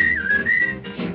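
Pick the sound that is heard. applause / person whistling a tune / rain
person whistling a tune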